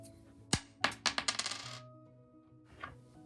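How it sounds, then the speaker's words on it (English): A coin is flipped and drops onto a hard surface. One sharp clink is followed by a quick run of bouncing, rattling rings that settle and fade, then a faint rustle. "flip a coin"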